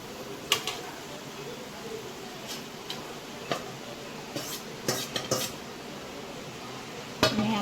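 Rice being stirred into pulao masala in a metal pot, with scattered spoon scrapes and clinks against the pot, moderately close, some louder knocks among quieter shuffling.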